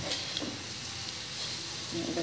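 Vermicelli (semai) with garam masala being fried in a pan for a Bangladeshi semai borfi, a soft, steady sizzle with light stirring scrapes, fairly quiet and close.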